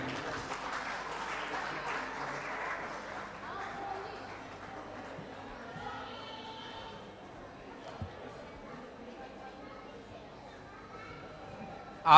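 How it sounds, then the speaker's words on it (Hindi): At a Sawan fair event in Delhi, an audience claps to welcome a guest onto the stage, fairly faint and distant applause strongest in the first few seconds, then fading under crowd murmur and background noise. "तालियों से स्वागत करिए प्लीज।"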